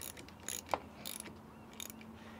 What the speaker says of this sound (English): Put the wrench on there and tighten it up.